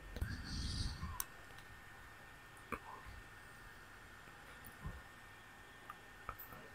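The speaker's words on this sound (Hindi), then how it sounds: "यहाँ पर आपने क्लिक करना है" A computer mouse gives several faint, sharp clicks spaced irregularly, with a brief muffled voice near the start, in an otherwise quiet room.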